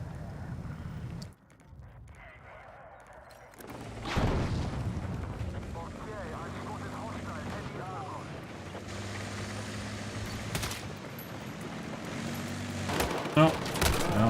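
Sniper and battle gunfire in Battlefield 6: heavy rumbling and scattered sharp reports over dense combat noise, with a few louder bangs near the end.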